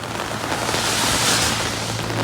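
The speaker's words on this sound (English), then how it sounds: "it's raining like crazy out" Heavy rain pouring down outdoors in a sudden downpour near a hotel, a steady dense broadband wash with no talk, continuous and fairly loud throughout.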